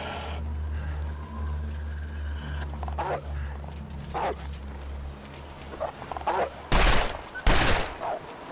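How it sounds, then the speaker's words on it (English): Gunfire in the survival video game The Long Dark: two sharp, loud shots crack in quick succession near the end, following quieter ambient game sounds. "Okay, wasted 2 shots there"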